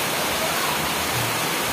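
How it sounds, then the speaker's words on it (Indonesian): Heavy rain that has fallen since the night before, during durian grafting season, pours steadily as a dense, even hiss with no pauses, close and alone. "Dari tadi malam hujan tak berhenti-henti ini kawan"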